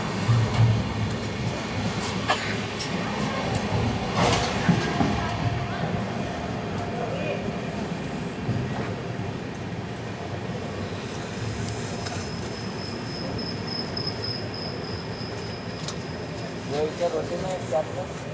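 The Mumbai–Amravati Superfast Express arrives at Shegaon station with a steady rumble of rolling rail wheels, occasional clanks and a faint high squeal, while people talk over it.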